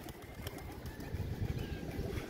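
Pigeons leaving their coop give low, steady cooing with a busy rustle of movement beneath, close and continuous with no talk.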